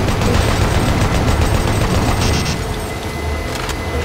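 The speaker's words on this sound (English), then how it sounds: "As we're shooting these guys here" Gunfire from Doom 3 BFG Edition as enemies are shot, a dense, loud, continuous rattle of repeated shots that eases slightly toward the end.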